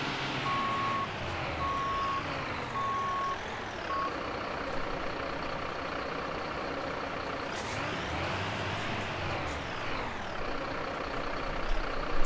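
A fire truck backs up in the 112 Feuerwehrsimulator video game, four regular reversing beeps over a low engine drone, then a hissing air-brake release and engine rumble, ending with a louder clunk.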